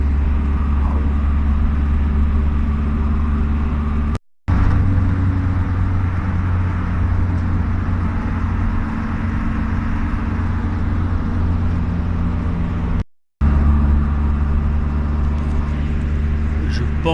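Steady road rumble inside a car driving away from Cairo airport, a loud continuous low drone with two brief cuts to silence.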